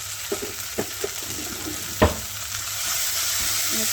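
Turmeric, chili powder and coriander powder frying in a pan, stirred with a spoon that clicks against the metal a few times over a steady, soft sizzle.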